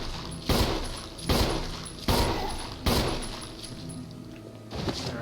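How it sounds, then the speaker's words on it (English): Four evenly spaced gunshots fired at zombies in the Resident Evil research facility game, loud booming blasts about a second apart, each trailing into a reverberant decay with no talking. "let's go over here and start shooting them"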